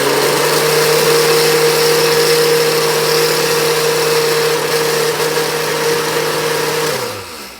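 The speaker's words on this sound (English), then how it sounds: "We're gonna blend it all up." A kitchen blender whirs steadily at high speed, whipping a food coloring mixture into foam; a loud, constant motor drone with a strong hum runs nearly eight seconds before spinning down at the end.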